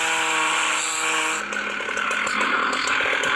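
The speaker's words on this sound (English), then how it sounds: "Aw, oh, chainsaw." A chainsaw buzzes loudly and continuously in the Into the Dead 2 zombie video game, a harsh revving drone that runs throughout.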